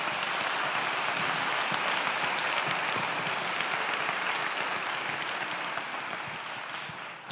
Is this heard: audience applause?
yes